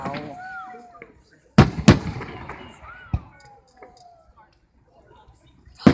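Fireworks bursting over Keansburg: several sharp, loud booms come in close succession, with rising whistles and crackle between them, while spectators talk and exclaim in the background.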